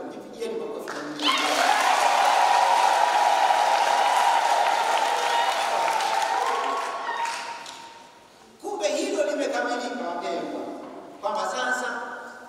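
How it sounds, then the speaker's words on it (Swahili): A church congregation breaks into loud, sustained applause at a priest's ordination, the clapping swelling and then fading before voices take over; speech follows near the end. "Tupigeni makofi kwa Mungu"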